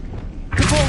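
A spell cast in Hogwarts Legacy lands as one sudden full-bodied whoosh and thump about halfway through and then rings on briefly, after a quiet, low rumbling lead-in.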